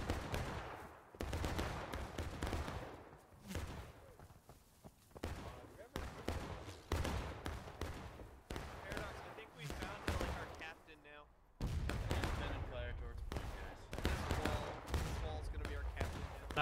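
Musket volleys in the Civil War video game War of Rights: repeated sharp bangs and rolling fire spread across the scene, loud and near, mixed with overlapping shouted voices.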